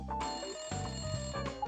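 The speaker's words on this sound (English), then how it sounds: "Oh, that's the phone." Telephone ringing in the video game Layton Brothers: Mystery Room, a steady electronic bell tone that rings continuously and clearly, with no talk over it.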